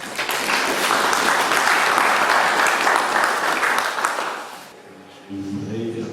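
An audience at a book launch in the Democratic Republic of Congo applauds loudly and steadily, the clapping fading out near the end before a voice begins speaking.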